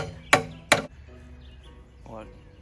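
A hammer strikes a metal part twice in quick succession, two sharp ringing clanks close by, followed by quiet and a short rising tone.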